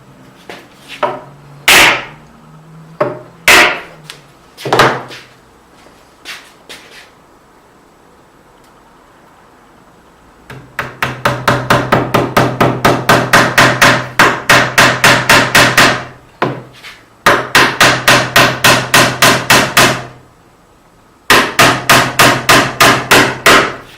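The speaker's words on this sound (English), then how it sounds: "You nail them just almost all the way in, then you come back later with the nail set." Nails are hammered into a wooden cabinet: a few scattered taps at first, then loud, fast runs of sharp rhythmic blows in three long bursts with short pauses between them.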